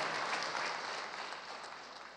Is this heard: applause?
yes